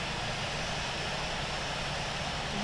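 An Airbus airliner in a flight simulator game produces a loud, constant broadband roar of engines and wind with no break and no speech.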